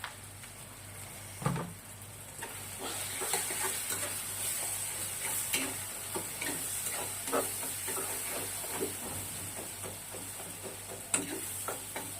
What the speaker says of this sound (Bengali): ভালো করে মশলাটা এইভাবে নাড়াচাড়া করে হলুদ মরিচের গুঁড়ো নুন দেওয়ার পর